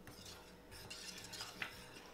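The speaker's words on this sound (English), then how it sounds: "and then whisk it in gently" Vanilla is whisked gently into a vegan no-bake pumpkin pie filling, taken off the heat. A soft metal whisk scrapes and clinks against the pot in a steady, quiet rhythm, with one brighter clink near the end and no talk.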